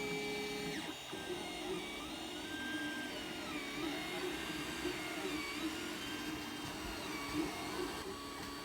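A 3D printer extrudes filament onto its bed, producing a steady close whir with shifting, sliding stepper-motor tones as the print head moves.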